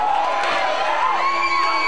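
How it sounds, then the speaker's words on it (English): A wrestling crowd at an IZW independent pro wrestling show roars and cheers steadily, with whoops and shouts layered into a dense, loud wall of arena noise. "This crowd is fired up"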